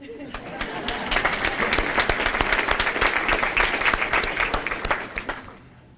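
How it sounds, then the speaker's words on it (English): A high school audience bursts into applause, many hands clapping loudly and steadily for several seconds before tapering off. "Miss Agan, we didn't clap for you, so we're going to now."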